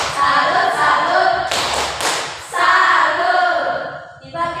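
A classroom of students claps hands in a chant, giving a cluster of sharp, loud claps and thumps in bursts with brief pauses.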